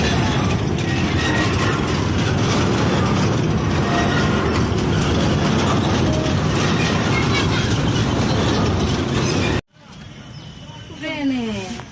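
A small children's ride train at Rangpur Zoo runs with a loud, steady mechanical clatter and rumble that cuts off abruptly near the end, followed by a voice.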